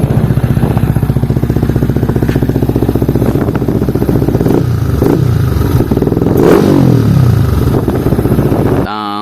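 A Yamaha Sniper 155 motorcycle with a full-open MBR1 exhaust idles loudly up close, its engine pulsing steadily, then is revved in a rising and falling surge before cutting off.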